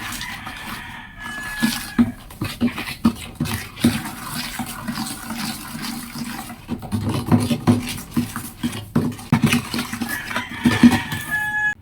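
A chemical mixture for homemade dishwashing liquid being stirred in a container, with irregular sloshing, scraping and swishing, close and moderately loud.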